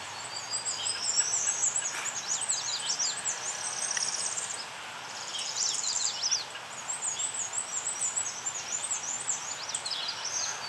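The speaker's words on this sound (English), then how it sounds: "Now, all at once, you might hear many different warblers singing." Many warblers, among them a black-and-white warbler, sing together during migration at Mount Auburn, high thin overlapping songs and chips that run continuously over a soft steady outdoor background.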